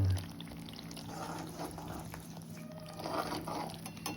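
A faint, steady stream of water pours and splashes into a container, with a soft continuous rush throughout.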